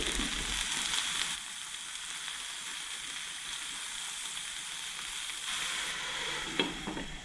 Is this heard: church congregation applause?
no